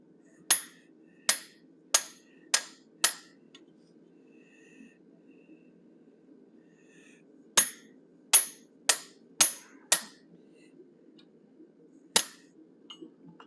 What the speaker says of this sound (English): Using approximately an 1/8 inch fuller. Coming across diagonally.